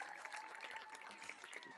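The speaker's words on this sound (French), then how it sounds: "Vous pouvez les applaudir très fort." Brief applause from an outdoor evening audience at a local performing-arts final, faint and somewhat distant clapping mixed with a voice speaking over it.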